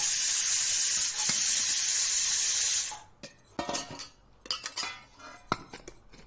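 Onions sizzle loudly in a hot pan in a home kitchen, a dense steady hiss that cuts off after about three seconds, followed by sharp clinks and scrapes of utensils against cookware.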